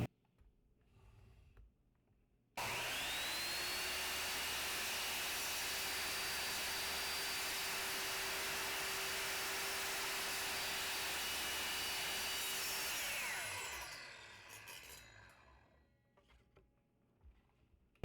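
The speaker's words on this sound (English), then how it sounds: "I'm going to cut down the bottom panel of the jewelry box." A power saw cuts the wooden bottom panel of a homemade jewelry box: a loud, steady whining drone runs for about ten seconds, then winds down as the blade spins to a stop.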